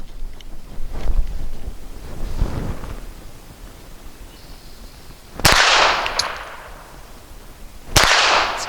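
Two sharp, loud reports from a Walther CCP .380 ACP pistol firing light ARX ammunition at a range, spaced about two and a half seconds apart, each followed by a brief ringing tail over wind noise.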